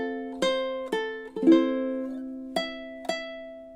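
A ukulele plays a short passage from a song, six plucked notes and chords ringing clearly and close, each decaying before the next, with no voice.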